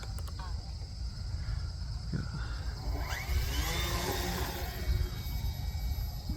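Flatabria model airplane, a scale Citabria without flaps, taking off with its small engine buzzing and rising in pitch, whining past at moderate distance among wind and outdoor noise; a voice is briefly present.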